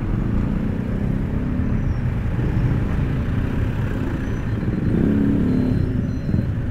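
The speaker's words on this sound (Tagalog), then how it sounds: "Traffic so much." Road traffic on a busy Philippine route crowded with jeepneys makes a steady low rumble of engines close by, with a vehicle swelling louder briefly near the end.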